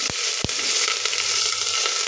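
Onions sizzling in hot oil inside a pressure cooker, a steady close crackle with two sharp clinks near the start.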